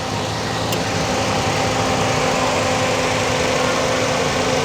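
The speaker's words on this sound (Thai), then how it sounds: "เครื่องยนต์ตัวนี้เป็นเครื่องยนต์ VVTi นะครับ เป็นเครื่องยนต์4สูบ16วาล์ว" A 2010 Toyota Yaris 1.5G with a VVTi four-cylinder, 16-valve engine runs at a steady idle: an even, close mechanical hum with a constant low drone and no change in revs.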